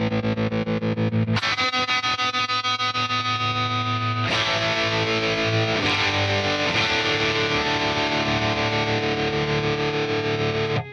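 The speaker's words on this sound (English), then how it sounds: "There is a tremolo on this amp." Distorted electric guitar through an amp with tremolo: thick, sustained chords pulse with rapid volume wobble, shifting to new chords a few times and playing loud and continuous without voices.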